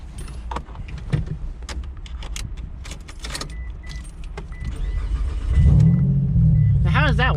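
A 2009 Mitsubishi Eclipse GT with a clutch delete is started without holding the clutch: keys jingle and people talk, then the engine cranks and catches with a low, close rumble that settles into a steady idle.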